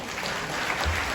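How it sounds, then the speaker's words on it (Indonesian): Dense audience applause at a student competition event, continuous and fairly loud for about a second. "Tepuk tangan dulu nih."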